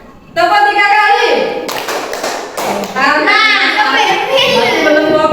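Primary school children clap hands in a classroom counting game, several quick bursts of near, loud clapping mixed with a voice and children's chatter throughout.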